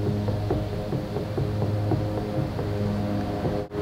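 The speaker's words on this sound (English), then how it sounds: "Very loud for a gearbox with oil in it." A John Deere 60D mower deck gearbox with a failing bearing runs with a loud, steady mechanical hum and a rhythmic throbbing pulse about twice a second, close up and continuous, with a brief dropout near the end.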